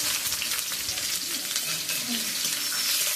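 Chopped onion fries in hot oil seasoned with black cumin and two dried chillies, a continuous close hiss and crackle running the whole few seconds without speech.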